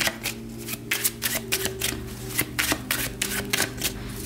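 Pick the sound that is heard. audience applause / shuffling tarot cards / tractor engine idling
shuffling tarot cards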